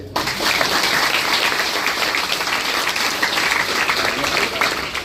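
Steady, dense applause from an audience in a high school hall in Medan fills the whole stretch, loud and close, with no break in the clapping.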